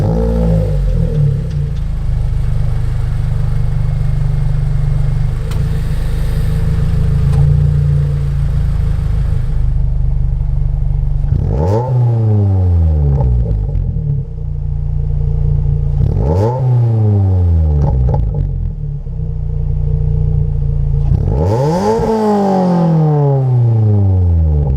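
A Mazda NC Miata with an OBX header and midpipe with catalytic converter idles loudly, then revs three times in quick rising-and-falling sweeps, each climbing sharply and dropping back to idle.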